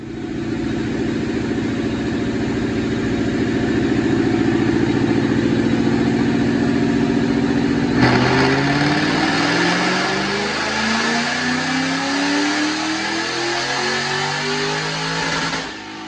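A supercharged 2007 Foose Mustang with a manual gearbox, Paxton supercharger and Detroit Rocker cams makes a dyno pull on 93 octane. The engine drones steadily, then climbs hard through the revs, loud and close, with a whining rise and no talking.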